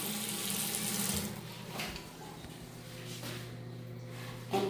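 Tap water runs into a bathroom sink for face washing in a steady, soft splashing stream that lasts the whole time, with faint handling noises and a slight surge at the end.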